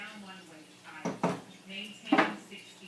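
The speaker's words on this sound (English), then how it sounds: "Just going to give it a quick stir." Rice boiling in a pot is stirred with a spoon, giving two short metallic clinks and scrapes against the pot, close and moderately loud, over a low background hum.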